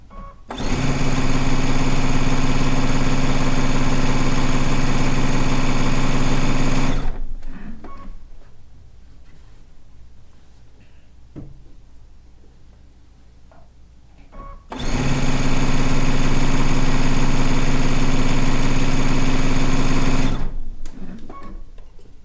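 A sewing machine stitches a Stone Log Cabin quilt round in two long, loud, steady bursts with a quiet pause between them, the motor whirring evenly at close range.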